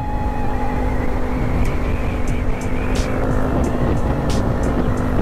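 Yamaha Aerox 155 scooter riding on a road, a continuous wind-buffeted engine drone with a steady whine and a few short squeaky bursts, close and unbroken throughout.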